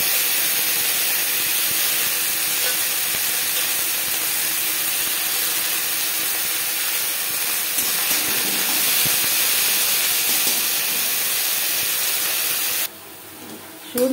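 Drumstick leaves sizzling in a hot pan with cumin and chilli, a steady loud hiss of frying that runs for many seconds before dropping off near the end.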